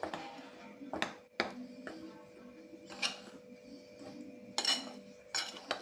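A spoon whisks gram flour batter in a bowl for dhokla, giving repeated sharp metallic clinks and taps against the bowl in an uneven rhythm, close and fairly quiet.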